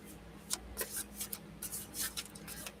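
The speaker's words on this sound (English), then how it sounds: "lately I can't shuffle these cards for nothing" A deck of playing cards being shuffled by hand, giving soft, quiet riffling bursts that repeat irregularly over a faint steady hum.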